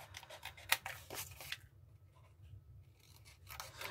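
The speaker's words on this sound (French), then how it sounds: "Et ensuite, il ne nous reste plus qu'à couper." Scissors cutting paper by hand for a scrapbooking handbag project: several quick crisp snips in the first second and a half, then a pause before more faint cutting near the end, close up with no talk.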